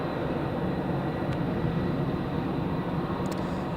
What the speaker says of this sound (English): that's EasyJet taxiing